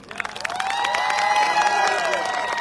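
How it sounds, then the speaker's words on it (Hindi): An audience at an event in Raipur, Chhattisgarh, claps and cheers, with rapid applause building into sustained loud cheering and whistle-like shouts that hold to the end. "ताली बजाओगे, इतनी ताली बजाओगे"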